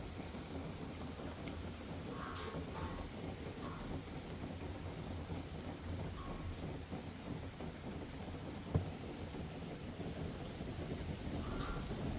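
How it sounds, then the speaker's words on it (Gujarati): Steady unseasonal late-October rain hisses continuously over a farm with a low rumble of thunder underneath, fairly faint and distant, with no voices. "ભર શિયાળે ચોમાસા જેવું વાતાવરણ થઈ ગયું છે ચાલુ છે વરસાદ આજે"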